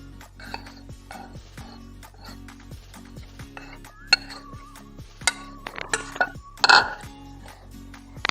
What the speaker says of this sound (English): With the help of roller, we'll mix it.